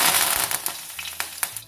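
Curry leaves and mustard seeds hit hot oil during tempering for onion and coconut chutney, producing a loud, dense sizzle with sharp popping crackles scattered throughout, close up and without talk.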